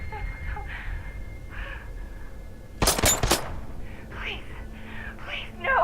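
A short, loud cluster of close gunshots bursts out in Batman: Arkham Knight, three or four rapid cracks in quick succession, with faint whispered voices before and after.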